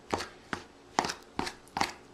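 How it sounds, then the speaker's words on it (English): Two table knives cutting cold butter into flour in a bowl for pie crust, making five short, soft scraping chops spaced about half a second apart, close and quiet with no talking. "You just take 2 knives, and just like you're cutting up your steak or something, basically you just want to cut these pieces up"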